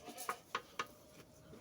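Pair of goats for sale in Osh bleating in three short, evenly spaced calls, fairly close but quiet, with no talk.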